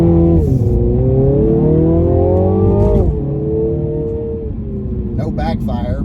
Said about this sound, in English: see if I can make that exhaust make a little noise when we take off